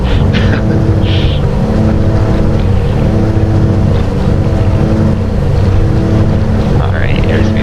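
Twin engines of a simulated Beechcraft Baron 58 in X-Plane 11 hold a loud, steady, broadband roar throughout as the throttles are pushed in for takeoff, with wind-like rushing over the top.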